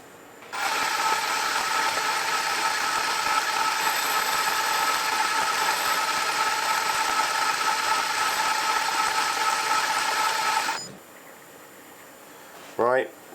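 A machine tool running a final cutting pass on a miniature petrol engine part gives a steady, loud mechanical whine for about ten seconds, then stops, and a short squeak follows near the end.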